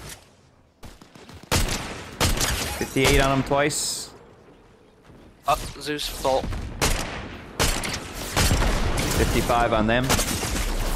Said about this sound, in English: Oh, there's Gunfire?